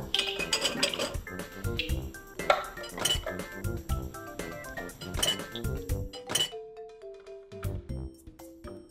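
Dishes, glasses and cutlery being cleared from a table and loaded into a dishwasher, a close run of clinks, clatters and rattles with bright ringing hits, then sparser clinks as the loading winds down.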